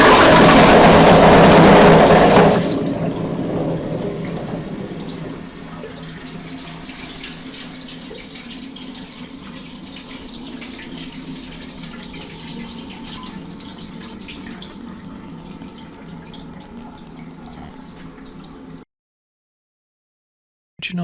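A Kohler Highline Classic Pressure Lite pressure-assisted toilet flushing 24 golf balls: loud rushing flush for about two seconds, then a steady hiss of water refilling that runs on before cutting to silence.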